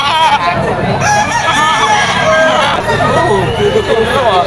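Gamecocks crow at a market, including a green-legged stag, with several overlapping crows close by amid clucking, a crowd's babble and someone talking.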